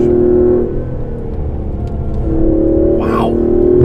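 Aston Martin DB11 engine droning steadily, then rising in pitch as it revs and accelerates, heard loud and close from inside the car with a constant rumbling undertone.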